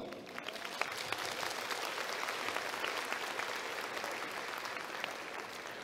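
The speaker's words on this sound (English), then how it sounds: "Please give them all a round of applause." Applause from the audience at a high school graduation ceremony, with many hands clapping in a sustained, fairly distant and soft patter that stays level throughout.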